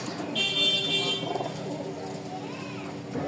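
Pigeons coo softly in a loft holding several pairs, low and somewhat distant, under someone talking.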